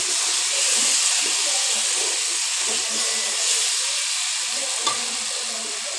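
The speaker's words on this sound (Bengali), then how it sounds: "ওই কড়াইতে মুখিগুলো হলুদ লবণ মরিচ দিয়ে দিলাম।" Taro pieces with turmeric, salt and chilli fry in a wok, giving a steady, close sizzle and hiss that runs the whole time, with soft stirring scrapes on top and no talking.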